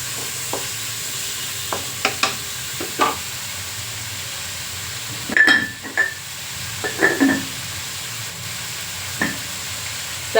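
Carrots and mixed vegetables sizzle as they fry in a pan, with a steady soft hiss and a series of scrapes and clinks from stirring scattered throughout, fairly close with no talk.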